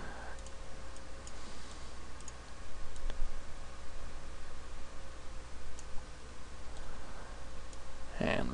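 Computer mouse clicks while dragging copies in Photoshop, faint sharp ticks at irregular intervals over a low steady hum and background noise.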